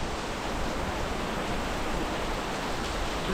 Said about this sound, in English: We're seeking refuge under the bridge and we got a waterfall.